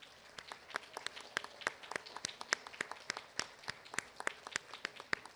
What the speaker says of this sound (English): We're applauding you, Dr. Solomon.